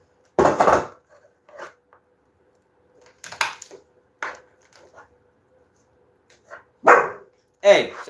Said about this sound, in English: Anytime somebody eating something here, you gonna want to bark